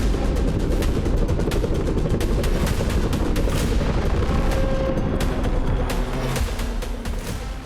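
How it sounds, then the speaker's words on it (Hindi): A bomber strike on a military warehouse sets off a dense roar of blasts, with repeated sharp cracks and booms over a continuous heavy rumble, loud and unbroken throughout. "अचानक एक भीषण धमाका होता है।"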